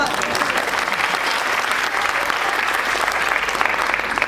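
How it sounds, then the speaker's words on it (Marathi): Audience in a Marathi movie screening applauding, a dense, steady wash of many hands clapping at full volume for the whole stretch, with no clear speech on top. "त्यामुळे तुमच्यासाठी टाळ्या वाजवा."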